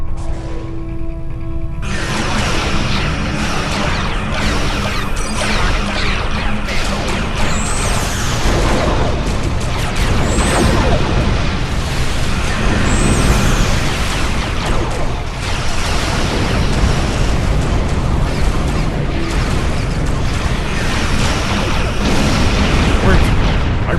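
Starship weapons fire and explosions roar in a Star Trek Online space battle, a dense, continuous barrage of booms and bursts with high energy-beam sweeps, loud throughout, with voices under the battle noise.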